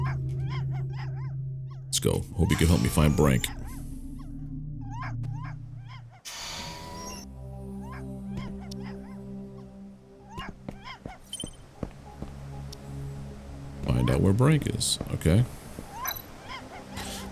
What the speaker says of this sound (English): Puppy is barking at something down below.